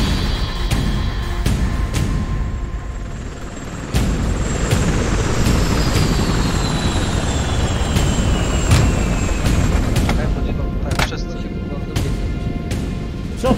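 A military helicopter in the Squad video game gives a continuous whirring, rumbling drone, broken by a few sharp impacts, while players talk over it.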